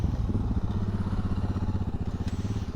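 An Aprilia Tuareg 660 motorcycle on an offroad ride chugs at low revs with a rapid, uneven pulsing thump, loud and close, as the engine labors toward a stall.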